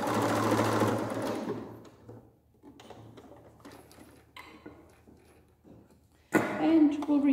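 A sewing machine stitches the hem of a homemade sound-absorbing blanket in a studio, whirring loudly and steadily for over a second, stopping for a quieter stretch of faint handling noise, then running again in a loud burst at the end.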